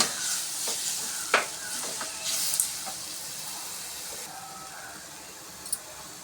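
Onions tossed with roasted gram in a hot pan for chutney give a soft, steady sizzle with a few sharp scraping knocks of the stirring spoon, close and fairly quiet, no voices.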